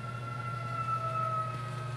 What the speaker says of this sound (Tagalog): Meron pong ambulansya.